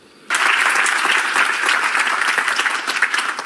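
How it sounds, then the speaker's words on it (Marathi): An audience bursts into sustained applause, loud dense clapping that starts abruptly and continues steadily without a break. "रिया, ह्या टाळ्या तुझ्यासाठी होत्या, माझ्यासाठी नव्हत्या."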